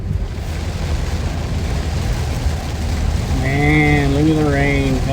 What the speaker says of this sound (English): look at the rain coming down